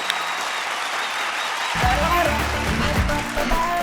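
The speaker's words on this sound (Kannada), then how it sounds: "ಬರ್ಲಿ ಚಪ್ಪಾಳೆ." A studio audience for a comedy show breaks into loud, sustained clapping to welcome a skit, building up after a host's voice and continuing with voices mixed in.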